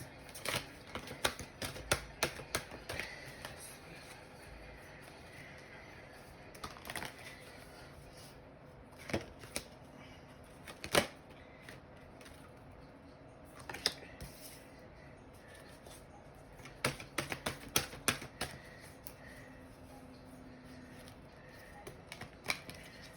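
Playing cards shuffled by hand for a spiritual card reading, quiet irregular bursts of riffling and tapping separated by pauses, close and fairly soft.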